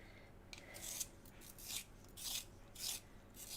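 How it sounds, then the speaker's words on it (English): A coloured pencil in a coral shade is sharpened by hand during a colouring session, giving quiet rasping scrapes in about six short rhythmic bursts, close and soft, with no voice. "I need to sharpen it again."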